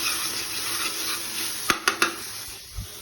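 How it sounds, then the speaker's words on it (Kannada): Onion masala for egg bhurji roasting in a pan, a steady low sizzle with a few sharp clinks of a spoon against the pan near the end. "ಇವೆಲ್ಲ ಹಾಕ್ಕೊಂಡು ನೀಟಾಗಿ ಆ ಸ್ಮೆಲ್ ಹೋಗೋವರೆಗೂ ರೋಸ್ಟ್ ಮಾಡ್ಕೊಬೇಕು"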